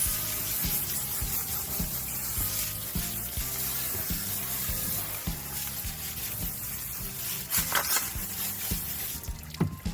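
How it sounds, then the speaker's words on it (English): Water splashing and running while tumbled Que Sera jasper rocks are rinsed, with hard clacks of stones knocking together in a loose rhythm throughout, close and moderately loud. "I want to get another rinse"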